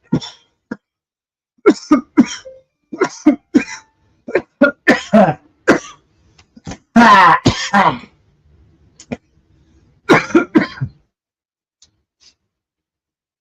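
One harsh cough bursts out amid scattered soft clicks and short noises during a boxing fight commentary, with quiet stretches before and after.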